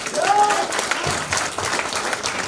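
Audience bursts into applause at a network marketing seminar, a dense run of clapping over a brief moment, with a short whistle-like tone near the start.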